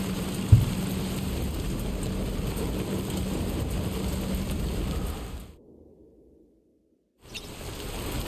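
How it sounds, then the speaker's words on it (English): Steady rain hisses through a Death Stranding game scene for over five seconds, then cuts to near silence before the downpour returns at the end. "I don't think this rain's gonna stop."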